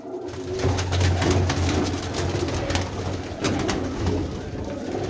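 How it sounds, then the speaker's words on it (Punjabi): A black-eyed male pigeon coos steadily and close, with soft repeated low calls over a constant noisy background and faint clattering; no one speaks. "ਕਾਲੀਆਂ ਅੱਖਾਂ ਦਾ ਕਬੂਤਰ ਹੈ ਜੀ ਇਹ"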